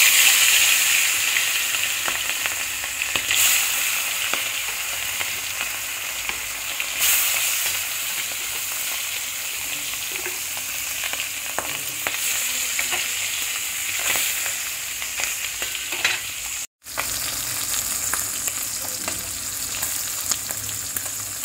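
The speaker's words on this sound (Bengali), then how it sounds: "এবার মাছগুলোকে ভেজে নেব" Tangra fish rubbed with salt and turmeric sizzles steadily in hot oil in a kadai, a loud, continuous close-up crackle with one brief dropout near the end and no talking.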